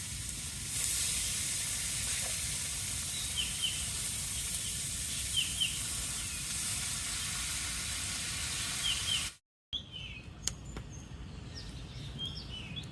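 Water poured into a hot wok hisses as steady steam for about nine seconds, then cuts off briefly before a quieter sizzle resumes, with faint bird calls in the background.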